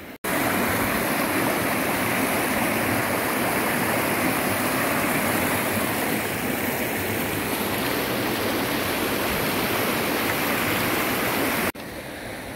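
A mountain stream at the foot of a cliff rushes loudly and steadily over rocks, a dense, continuous close-up gurgling roar with no voices.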